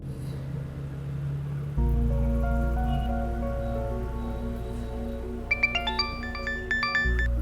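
A mobile phone ringtone plays alone in an indoor scene of a crime drama, a sustained electronic melody that swells in and layers brighter chiming tones near the end.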